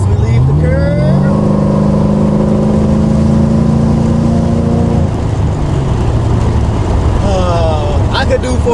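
An LS V8-swapped Mazda RX-8 accelerates hard out of a curve, its engine note climbing steadily in pitch for several seconds before a shift, loud and close, with road and wind noise behind.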